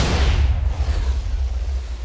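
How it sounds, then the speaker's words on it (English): TNT explosions in the Minecraft 1.15 video game, a loud continuous rumbling roar of overlapping blasts with deep bass, heavy from the start and dying down slightly. "So we got our first explosions."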